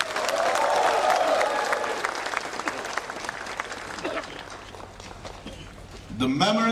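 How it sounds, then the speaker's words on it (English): Crowd applause at a public rally in Kohima against illegal taxation, broad sustained clapping from a large outdoor gathering, loud at first and gradually thinning, with a voice rising over it at the close. "shall we all give a big round of applause for this public rally?"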